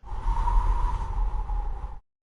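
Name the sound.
wind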